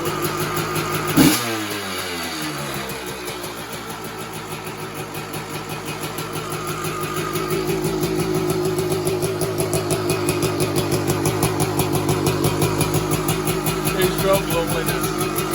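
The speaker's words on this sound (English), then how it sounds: "not even clean the carb, and fired up first, that is beautiful" A 1983 Yamaha YZ250K two-stroke motorcycle engine fires up at once with a sharp pop, then settles into a close, rattling, buzzy idle whose pulses quicken slightly as it warms over many seconds.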